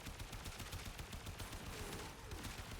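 Rapid gunfire from a weapon in the video game Warframe, a fast rattling stream of shots at an even rhythm, steady and moderately loud with no pause.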